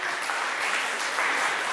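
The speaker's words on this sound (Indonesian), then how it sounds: "Tepuk tangan dong untuk Pak Ibu Kusmawi." An audience at a book discussion of the novel The Nine applauds the speaker, a brief, dense and even patter of many clapping hands at steady loudness.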